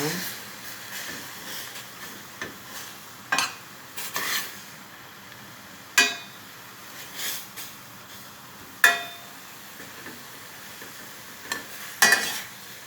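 Crushed walnuts being stirred into an apple filling for cookies, heard as sharp, scattered scraping clicks of a spoon against a bowl, a few separate strokes spaced a second or two apart, close and fairly quiet.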